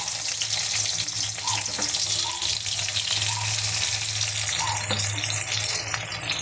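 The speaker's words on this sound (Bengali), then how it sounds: "কড়াইতে দিয়ে দিলাম" Onion sizzles steadily in hot oil in a wok, a loud continuous frying hiss with faint scraping from stirring, no voices.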